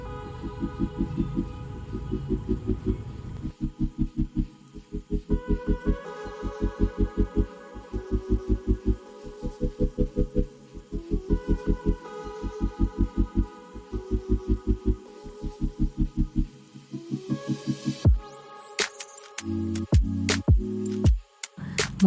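Three eggs are beaten with a mixer until frothy for a rava pudding cake. The motor whirs in close, rhythmic, repeated bursts, with some clattering near the end.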